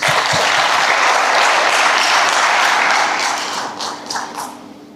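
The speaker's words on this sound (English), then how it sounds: "Let's give them a big round of applause" Loud, dense applause fills a graduation ceremony hall, holding steady for about three seconds before thinning and fading toward the end.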